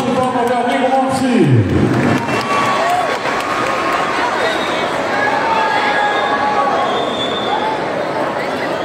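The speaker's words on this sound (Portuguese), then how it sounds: "Uma salva de palmas, meu amigo Moacy." A crowd at a PP party convention breaks into applause and cheering, a steady dense clapping wash that fills the whole span, with a voice speaking over the start and a few shouts within the crowd.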